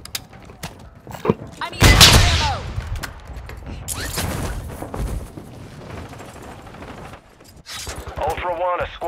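Enemy gunfire in the video game Call of Duty: scattered sharp shots and a loud burst stand out among mechanical clanks and creaks, with a voice speaking at moments.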